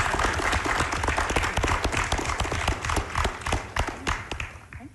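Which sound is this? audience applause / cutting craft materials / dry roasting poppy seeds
audience applause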